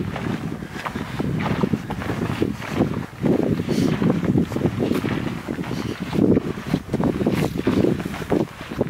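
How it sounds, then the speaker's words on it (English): Breezy wind along a lakeside hiking trail near Blue Miner Lake in Jackson Hole, a steady low rushing buffet against the microphone that swells and gusts throughout, loud and continuous with no voices. "A little breezy though, which is good."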